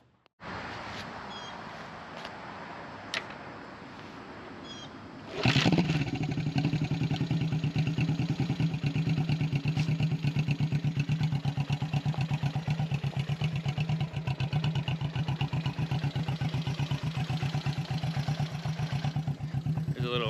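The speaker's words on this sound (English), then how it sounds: "There's a little kickstart action. Runs really well." A 1975 Honda CB360T motorcycle engine kicked over after a few clicks, then catching and idling steadily with a rapid, even putter that continues to the end.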